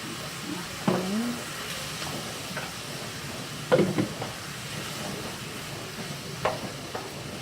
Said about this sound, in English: And fry them a little bit just because it gives it a nicer taste.